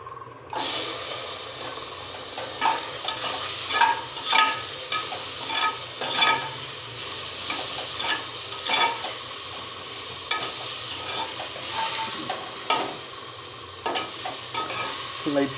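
Tomatoes frying in a pan for rasam, a steady close sizzle with repeated scraping strokes of a spoon stirring through them at an uneven rhythm.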